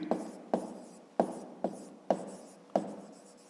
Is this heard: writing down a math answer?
yes